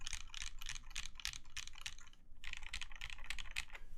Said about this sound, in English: When I'm typing lightly, it definitely doesn't hit and pick up the case much.